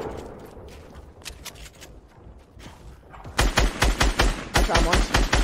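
Video game gunfire: quieter scattered shots at first, then a loud, close burst of rapid shots in the second half, with a voice faintly present early on.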